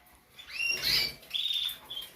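Canary chicks in breeding cages give a few faint, high, thin chirps, a rising peep followed by short squeaky calls over a quiet background.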